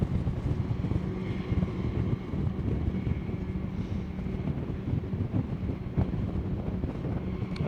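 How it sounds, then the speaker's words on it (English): Wind blowing steadily across a rooftop above the Hudson River, a broad, constant rushing roar with low buffeting against the microphone and no pauses. "This is a little bit windy up here."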